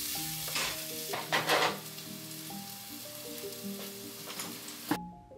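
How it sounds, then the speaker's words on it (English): Mushrooms and onions fry in olive oil in a pan, a loud continuous sizzle with spoon-stirring scrapes and clinks, then the sound cuts off sharply near the end. "I love that sizzle"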